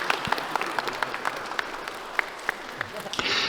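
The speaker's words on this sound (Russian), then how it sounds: "Поздравляю, и даже вот мои аплодисменты." Light, sparse clapping from a few hands, fairly close, with a brief swell of fuller applause near the end.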